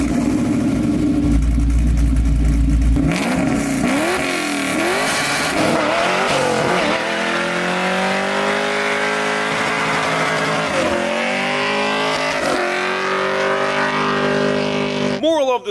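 A Camaro with an LM7 LS engine running a Summit Racing camshaft, backed by a Tremec TKX 5-speed manual and a spooled 3.42 rear gear, revs loudly up close, its pitch climbing and falling in repeated sweeps over a steady rumbling idle.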